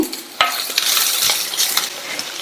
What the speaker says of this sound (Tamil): இந்த காய் எண்ணெயிலேயে 3 to 4 நிமிஷத்துக்கு வதங்கட்டும்.